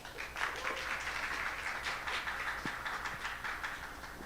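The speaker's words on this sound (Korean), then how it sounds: "모두 큰 박수로 맞이해 주시기 바랍니다" An audience at a high school graduation ceremony claps in a steady, even spread across a large hall, fairly faint and distant, with no speech over it.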